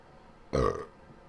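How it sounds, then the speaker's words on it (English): A single short, loud burp breaks an otherwise quiet background. "I'm kind of holding back a burp right now."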